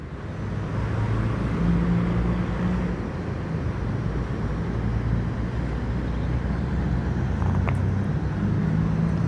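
A sleeper-class tronton bus with a Patriot body passes on the road, its steady engine drone and tyre rumble loud and continuous throughout with no talk.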